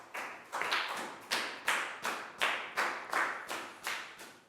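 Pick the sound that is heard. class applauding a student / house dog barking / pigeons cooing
class applauding a student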